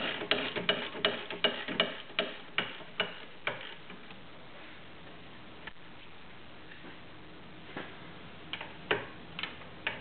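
A hand ratchet clicking on 15mm brake caliper bracket bolts, sharp close ticks in quick bursts with a pause midway, no talking.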